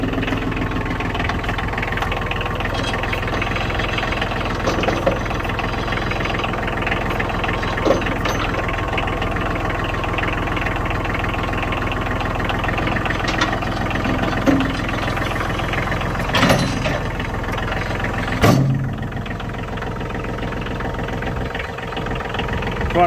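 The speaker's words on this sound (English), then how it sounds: "So fire up that tractor, Mike." A Cub Cadet 8354SS tractor engine idles steadily at an outdoor auction, a continuous close, loud rumbling drone with a few brief knocks and bumps and no talk.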